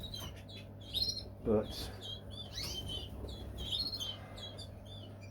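Caged birds chirp and tweet in scattered short bursts, moderately close, over steady low background hum with a brief voice.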